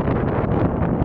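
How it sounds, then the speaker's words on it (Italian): Wind at roughly 2800 metres on the Col de la Bonette mountain pass, reached by motorcycle in October, buffets the microphone as a loud, steady, rumbling roar with slight gusty surges and no talking. "C'è un po' di vento, 2800 metri e rotti."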